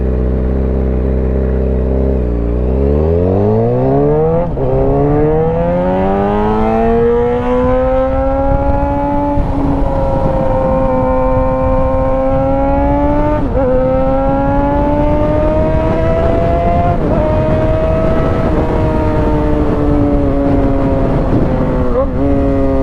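A modified Suzuki GSXR 600 motorcycle revs up from idle into a loud, high, screaming exhaust wail, its pitch rising and holding with a few small dips across a long, close run.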